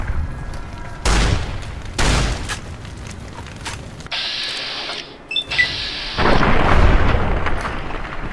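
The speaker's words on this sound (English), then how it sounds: "When the ninjas come, we're going to want to use the super shotgun." In the game Fallout New Vegas, a super shotgun fires heavy booming shots, with two loud blasts a second apart, then clinks and a mechanical reload rattle, and a final sustained blast.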